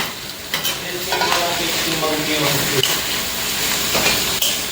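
Chicken goes into a pan of sizzling Jollibee-style spaghetti sauce, giving a continuous close frying hiss broken by scraping stir strokes and utensil clinks.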